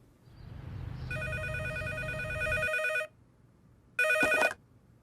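A telephone bell rings loudly in two bursts, a long trilling ring and then a shorter one after a brief pause, with no talk over it.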